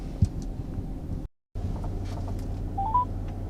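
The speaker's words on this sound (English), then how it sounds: "I'm going to get Lawn Love on the phone and see what happens." A phone call to a lawn care company, heard as a short series of dialing tones over an outdoor rumble, broken by a brief dropout of sound.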